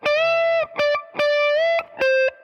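Distorted electric guitar plays repeated notes, each bent up and held steady at the top without dropping, in a rhythmic phrase.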